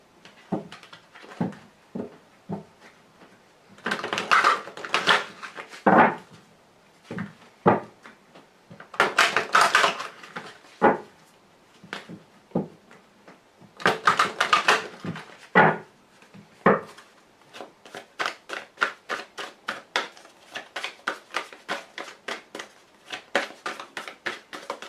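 Lenormand fortune-telling cards drawn and laid down one by one in a quiet room, a run of crisp slaps and shuffles, some bursts of rapid flicking, ending in a quick rhythmic series of taps, with no talking.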